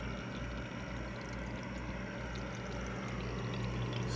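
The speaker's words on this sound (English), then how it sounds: "Steady stream of water." Water pours in a steady stream from a solar-powered dehumidifier used for water harvesting during a drought, a constant, dense trickling wash that holds even for the full length without pauses.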